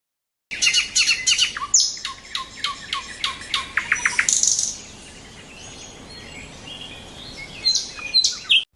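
Shrill bird calls and squawks ring out in quick repeated bursts, then fade to quiet before a few more calls return at the end.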